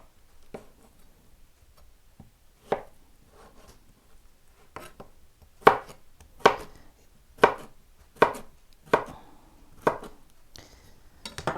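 A knife cubes zucchini on a cutting board, starting with scattered taps and settling into a steady run of sharp, close chops roughly every half second, with no talking.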